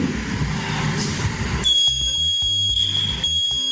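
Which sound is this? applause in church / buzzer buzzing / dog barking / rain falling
buzzer buzzing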